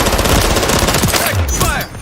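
Rapid automatic gunfire crackles loudly in a Call of Duty: Modern Warfare 3 firefight, dense bursts filling the moment with a brief lull near the end.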